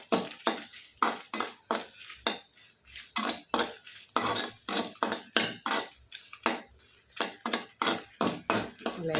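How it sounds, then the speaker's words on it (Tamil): A spatula scrapes and knocks against a pan while ingredients are dry-roasted, in a steady rhythm of sharp close strokes repeating about twice a second. "நம்ம லேசாக இதை வறுத்துக்கலாம்."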